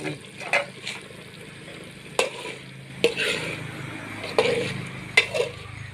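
Small fish frying in hot oil in a home kitchen, a steady crackling sizzle broken by sharp clinks and scrapes as the pan is stirred, close and fairly loud.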